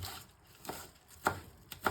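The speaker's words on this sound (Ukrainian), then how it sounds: "Та нашатковуємо базилік." Knife shredding basil on a cutting board, four quick irregular cuts, close and quiet.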